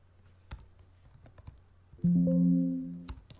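Sparse, faint clicks from typing on a computer keyboard, followed by a louder steady tonal hum lasting about a second before a few more taps. No talking.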